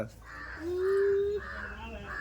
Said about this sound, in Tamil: காக்கா பார்க்க போவோம்